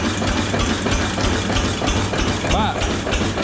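A Thermoil UA 7 horsepower diesel engine, unrestored and running on regular diesel fuel, chugs steadily and loudly close by with a continuous low rumble and a brief higher squeal near the end.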